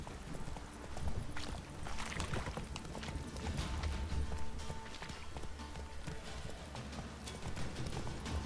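Horse hooves clip-clop steadily at a brisk gait in the Witcher 3 video game, a continuous running rhythm over game ambience and music.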